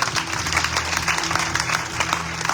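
A church congregation applauding during a Sunday worship service, a dense, continuous patter of many hands clapping at moderate loudness, with faint voices mixed in.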